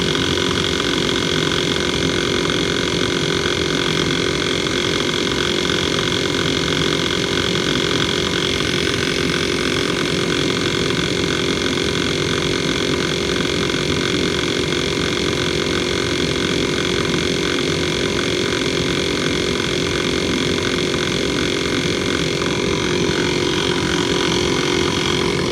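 An Audew portable electric air pump runs steadily and continuously, a loud, even mechanical drone with a constant motor hum and buzzing vibration and no talking.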